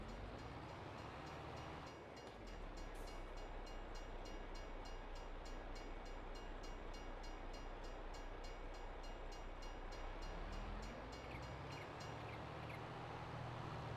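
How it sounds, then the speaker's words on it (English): A train passes in Farming Simulator 22, a loud continuous rumbling roll of rail wagons that builds after a quiet start and runs on steadily without any voices. "That's the train you don't want to mess with."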